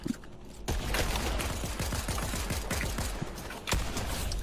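Rapid pistol shots ring out in a competitive video game match, many sharp cracks in quick succession over steady crowd and game noise, loud and dense throughout.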